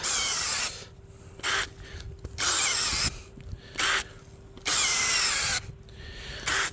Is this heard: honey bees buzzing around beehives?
no